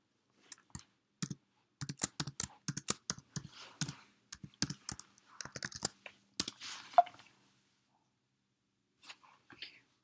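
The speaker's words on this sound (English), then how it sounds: "I'm going to type clear, and then I'm going to type that in" A computer keyboard on a macOS machine sounds close and crisp as a command is typed, with clusters of quick keystrokes, a few separate taps and a short quiet gap near the end.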